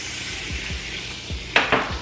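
Butter sizzles in a hot pan on the stove before zucchini is added, a steady close frying hiss with a few soft clinks of utensils and pan toward the end.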